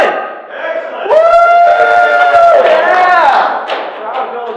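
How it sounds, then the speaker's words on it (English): A breakfast audience at a West LA Chamber of Commerce gathering cheers and whoops loudly, several voices shouting together in a sustained burst that swells, holds for about two seconds, then eases off. "The crowd goes wild."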